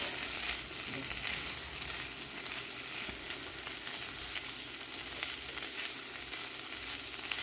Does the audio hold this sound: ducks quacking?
no